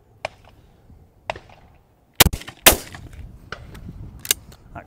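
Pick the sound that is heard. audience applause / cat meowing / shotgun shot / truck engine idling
shotgun shot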